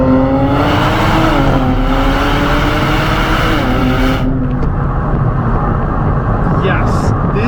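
A 400 HP Nissan Z pulling hard in second gear in manual mode, its engine tone climbing steadily through the revs, then a gearshift and quieter continuing drive with road noise, heard from inside the cabin.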